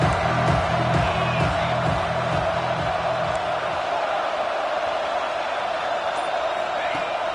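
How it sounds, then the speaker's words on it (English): A football stadium crowd roars steadily during a third-down play in a college game, a loud, continuous wash of cheering with a commentator talking over it early on. "The crowd electric, trying to help Tech on this 3rd down."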